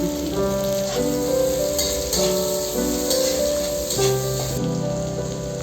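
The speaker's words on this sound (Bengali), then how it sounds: "সবগুলো ভালো করে ভাজা হয়ে গেছে" Steady crackling sizzle of spices, boiled garlic and onion frying in hot oil, continuous and fairly loud, with a faint tune running underneath.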